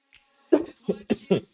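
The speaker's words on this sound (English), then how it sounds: "Sorry about the cough." A person's coughing fit in a quiet room, four short harsh bursts spaced roughly evenly after a faint earlier sound, close and moderately loud with no talk over them.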